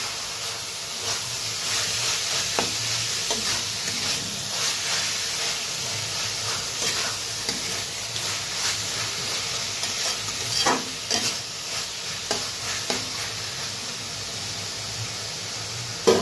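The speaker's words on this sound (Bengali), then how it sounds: "সব কোয়াশগুলো দিয়ে দিলাম। তো ভালোভাবে নেড়ে তিন জাল করে ঢেকে রাখবো।" Squash pieces stirred in a pan for a Bengali ghonto, a continuous hissing sizzle punctuated by scraping stirs of a utensil, close and steady with no talking.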